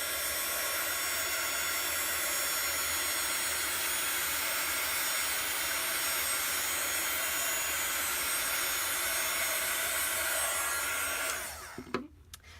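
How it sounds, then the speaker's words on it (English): A heat tool blows a steady, loud rushing hiss for about eleven seconds while drying ink on a card, then cuts off, leaving a few faint clicks and handling sounds. "just make sure you keep heat drying between layers"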